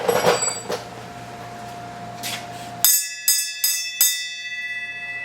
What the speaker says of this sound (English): So you want to ring the bell?